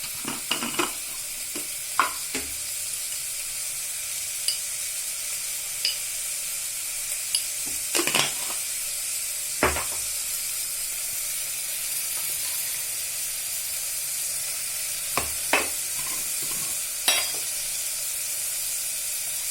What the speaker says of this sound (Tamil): கேரட்டு வதங்கினதுக்கப்புறம் மக்கானாவையும் போட்டாச்சு.